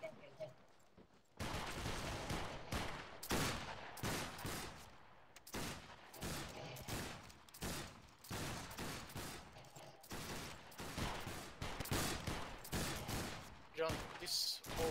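Musket volleys crack out in the online line-battle game Battlegrounds 3, a rapid run of loud, sharp broadband shots through most of the stretch with brief gaps between bursts and faint voices underneath.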